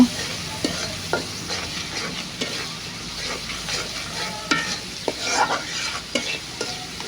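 Spices and turmeric fry in a pan for a water lily stem dish, with a soft continuous sizzle broken by repeated scraping stirs and clinks of a spoon, close and moderately quiet, without speech.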